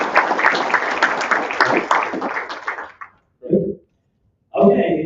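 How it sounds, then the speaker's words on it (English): Audience applause for Mitch at an evening pitch competition in Salina, Kansas, with about three seconds of clapping that fades out, followed by brief speech. "Nice round of applause for Mitch, please."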